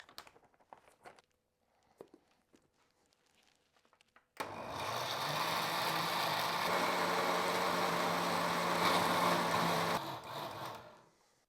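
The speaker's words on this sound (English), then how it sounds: "we actually want to get this in the mixer and blend it all up" An electric blender purees fermented chilies into hot sauce: a few faint handling knocks, then the motor kicks in loudly with a steady, dense roar for about six seconds before cutting off.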